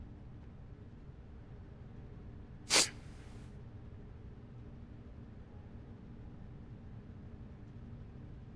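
A single short, sharp sneeze bursts out once, loud and close, against a steady low background hum, with silence before and after.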